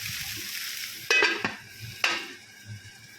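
Mixed vegetables with prawns fry in a pan under a steady hiss, interrupted by a few sharp scraping strokes of a spatula stirring them, close and without speech.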